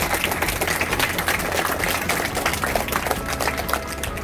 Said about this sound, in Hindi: इसाक भाई के लिए एक बार आप लोग ताली बजाएं